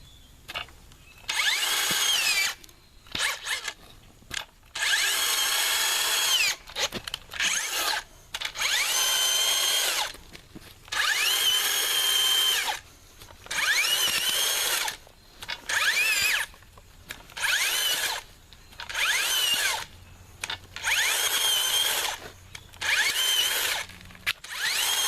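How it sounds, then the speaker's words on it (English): Drill-driven bulb auger boring into garden soil in a landscaped bed, running in repeated loud bursts of several seconds each with short pauses between, close by and without talk. "this is the bulb auger"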